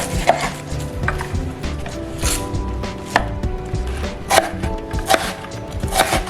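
Close, loud knife chopping on a board as garlic, pimentos and onion are cut fairly coarse, brisk irregular thuds and taps throughout with no voices.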